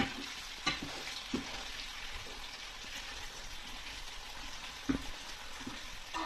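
Potatoes are stirred with a spoon in a pan for a curry: a soft, low sizzle beneath a handful of distinct scraping clinks at irregular intervals, fairly faint and close, with no voices.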